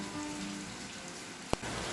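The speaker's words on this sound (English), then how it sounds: "It's raining for almost 3 weeks now." Steady rain falls in a constant, dense hiss of drops on surfaces, with one brief sharp tap partway through.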